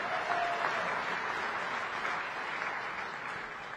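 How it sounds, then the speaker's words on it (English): A round of audience applause for prize winners at a SADC heads of state summit, a steady wash of clapping that slowly tapers off. "Please give the winners another round of applause."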